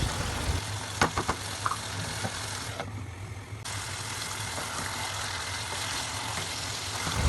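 Beef curry with spices stirred in a covered pot, a low steady sizzle with a few clanks of the lid and spoon near the start, soft and continuous at close range.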